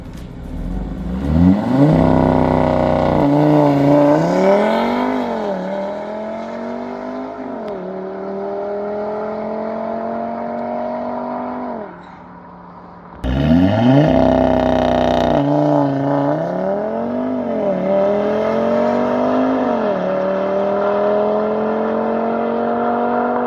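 An Audi RS3 launches hard from a standstill on a drag strip in Slovakia. The engine roars loudly through rising revs with several gear changes, pauses briefly, then a second equally loud full-throttle run climbs through its gears.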